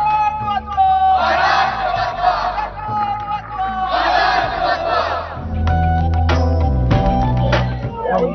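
A large crowd of fort volunteers and Shivaji devotees celebrates at Raigad fort after its UNESCO World Heritage listing, with loud, close, surging shouts and chanted battle cries rising in waves over a continuous rumble of voices.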